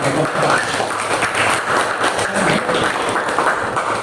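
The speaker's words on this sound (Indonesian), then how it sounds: "Kasih tepuk tangan untuk hasil jawaban" Classroom applause for a student group's answer during a social studies lesson, a steady wash of many hands clapping at close range, evenly sustained for the whole stretch without talk.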